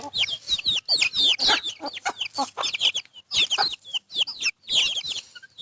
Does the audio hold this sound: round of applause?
no